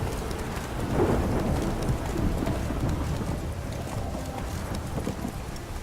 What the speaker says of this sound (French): Et il pleut à verse.